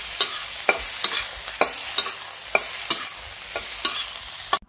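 Oil is stirred in a pan with a regular series of sharp spatula scrapes and taps, roughly twice a second, over a low sizzle and no voices.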